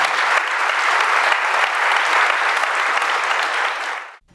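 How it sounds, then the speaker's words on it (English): Studio audience at a science-and-God debate show applauding its two guests: dense, steady clapping from a full crowd, loud and sustained before cutting off abruptly at the end. "would you give a round of applause for both our guests?"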